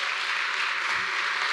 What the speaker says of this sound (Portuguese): Vamos aplaudir os nossos irmãos aqui?